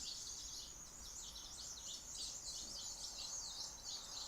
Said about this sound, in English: I'm listening to the birds outside in the trees.